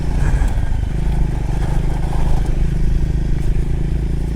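Motorcycle on off-road tyres riding gravel back roads in the rain, a steady loud engine drone with rattling clatter and scraping throughout.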